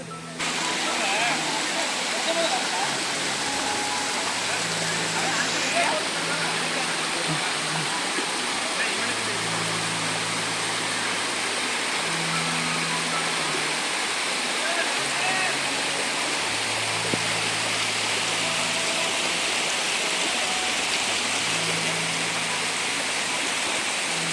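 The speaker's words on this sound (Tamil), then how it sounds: "இந்த நீரோடைய பாருங்கள் எவ்வளோ தூரம் ஓடுது பாருங்கள்" Steady rushing water of a stream at a waterfall, a continuous broadband roar throughout with faint low hum-like tones underneath.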